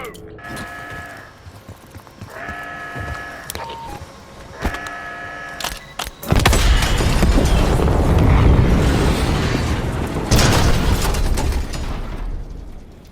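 A large explosive blast destroys a Scud missile launcher in the Call of Duty Black Ops 6 campaign, preceded by short metallic clanks and beeps, then a loud sustained roar and rumble that slowly fades.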